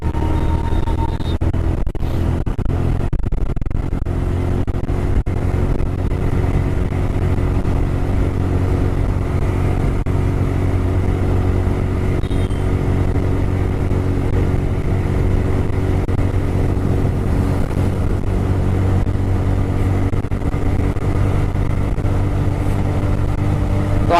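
A TVS Raider 125 motorcycle engine runs steadily and loudly up close throughout the ride, with a continuous low drone and wind noise and no talking.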